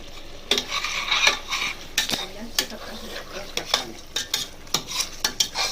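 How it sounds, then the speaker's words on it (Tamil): Garam masala being stirred into a chicken vegetable kurma, repeated rhythmic spoon scrapes and clinks against the pot over a soft sizzle, close and fairly loud, no voices. "நல்லா மிக்ஸ் பண்ணிக்கணும்."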